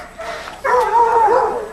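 Dog sounds from a group that includes a Chesapeake Bay retriever, a single yelping, whining call with a wavering pitch, fairly close and moderately loud, following a softer lead-in.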